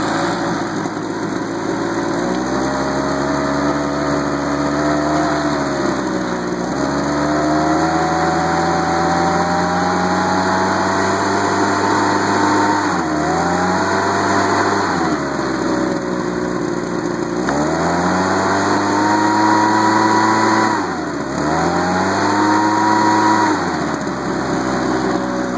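A Homelite two-stroke leaf blower runs close by for a long stretch, its high buzzing engine rising and falling as the throttle is repeatedly eased up and down, steady and loud with no talk.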